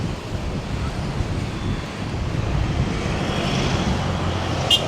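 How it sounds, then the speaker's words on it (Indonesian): A gentle sea breeze blows on a Djibouti beach, giving a steady broadband whoosh of wind and surf with buffeting on the microphone and no distinct voices. "sekarang kita nikmati angin-angin sepoi-sepoi"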